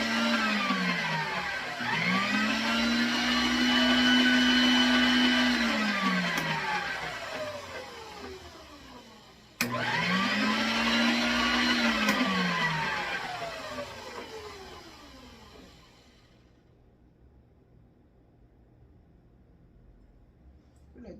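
A stand mixer kneads bread dough in a kitchen, its motor whirring in two long rising-and-falling runs with a brief stop between, then cutting out to near quiet.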